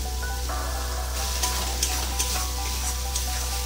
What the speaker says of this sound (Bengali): ভালো করে কষিয়ে নেবো যতক্ষণ না তেল ছাড়ছে।